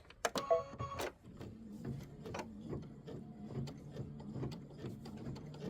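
A sewing machine stitching a tabletop display project, running in a steady mechanical whir with rhythmic clicks after a few sharp knocks at the start, moderately close.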